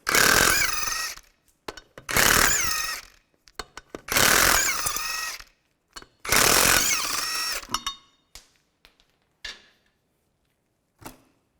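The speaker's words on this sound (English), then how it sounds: "19mm socket, take the lug nuts off." An impact wrench with a 19mm socket spinning lug nuts off a 2005-2010 Chevrolet Cobalt wheel: four loud, close whirring bursts of about a second each with a rising whine, then scattered clicks and clanks of nuts and tools.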